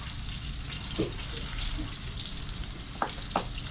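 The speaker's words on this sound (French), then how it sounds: "ici j'ai mis du beurre et de l'huile d'olive à chauffer. pour cuire mon poisson." Butter and olive oil heat together in a pan for cooking fish. A steady, close frying hiss runs throughout, with a few soft clicks near the end.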